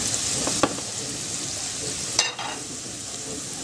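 Chopped onion sizzles steadily in a frying pan after a pinch of salt goes in, with a couple of brief stirring scrapes over the continuous crackle.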